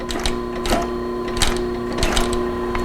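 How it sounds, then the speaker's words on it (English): An old-school clutch-type leather sewing machine runs slowly, its needle punching one stitch at a time in a steady rhythm of about three distinct thumps over a constant motor hum, close and clear. "And this is a clutch machine, so they're the old school. And here we sew slow,"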